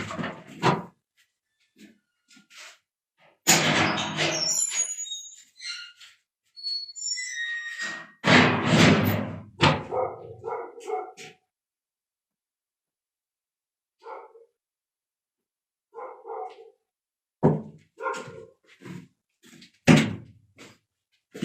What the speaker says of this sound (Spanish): El perrito quiere recrearse, quiere ladrar afuera, pues